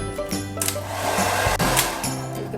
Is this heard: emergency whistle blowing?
no